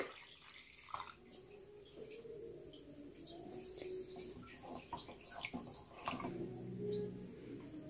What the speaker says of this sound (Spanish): Voy a agregar una taza de agua fría.